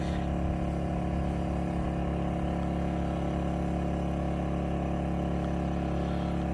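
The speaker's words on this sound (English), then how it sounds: "generator's over there, it's running with the aircon right now" A King's portable generator runs steadily while powering an air conditioner, giving a constant loud mechanical drone with an even hum and whir, close by and alone without talk.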